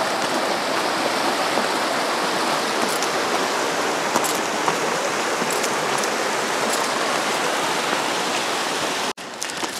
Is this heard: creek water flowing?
yes